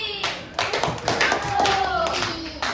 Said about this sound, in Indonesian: tepuk tangan untuk Dwi.